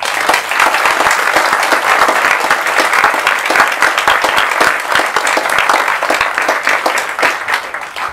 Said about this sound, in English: I think you deserve a huge round of applause.